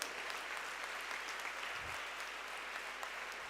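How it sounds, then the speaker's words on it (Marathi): Steady applause from an audience at a school kabaddi cluster event, a faint, even wash of many hands clapping at a distance, continuous throughout with no voices on top. "विशेषतः त्या महिलांसाठी आपण जोरदार टाळ्या वाजवूयात."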